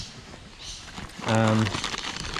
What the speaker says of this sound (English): Just a plastic bag with my lures in there.